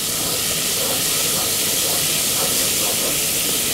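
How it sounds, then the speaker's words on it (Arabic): Garlic sautéing in a pan for an Egyptian moussaka with vinegar and tomato sauce, a loud, constant sizzle and hiss like steam that fills the whole stretch without pause. "ابتدي اشوح فيها"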